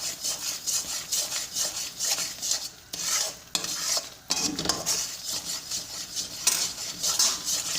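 A spoon continuously scrapes and stirs thick Mysore pak mixture in a pan, making a rhythmic, close scraping and rubbing with a light sizzle beneath, steady throughout with brief dips, and no speech.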